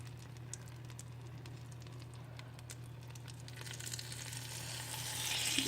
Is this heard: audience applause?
no